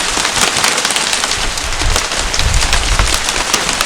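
Hail pelts a car roof and windshield in a dense, steady clatter of rapid hard impacts, loud and close, with no talk over it.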